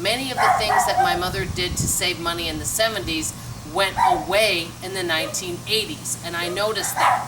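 Dogs bark and yip intermittently in the background of a home while someone talks continuously over them.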